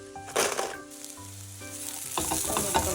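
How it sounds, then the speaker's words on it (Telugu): Fried bitter gourd being stirred into onions in a pan with very little oil, a short close sizzle with scraping strokes and a few clinks, no talking. "ఇది తీసుకెళ్ళి ఇప్పుడు ఆనియన్స్లో కలుపుతాను."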